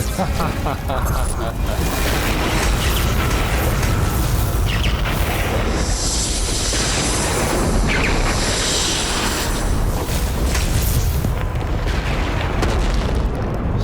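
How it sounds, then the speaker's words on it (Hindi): A loud, sustained explosive boom roars and rumbles for several seconds, thick and powerful, with a voice heard amid the blast. "ये कैसा विस्फोट हुआ?"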